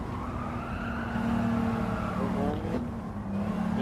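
Race car in the Gran Turismo video game screeching and skidding under braking, a sustained tyre squeal over engine drone, swelling midway and tapering briefly near the end.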